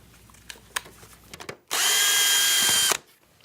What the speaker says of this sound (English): Start by removing the top 2 screws.